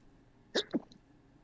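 A single sharp sneeze, brief and fairly close, bursting out over a quiet background with a short second gasp right after.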